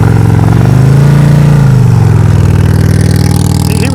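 A motorcycle engine laboring at low speed during slow-speed riding practice, a steady loud rumbling drone with a slight rise and fall in pitch, close and continuous.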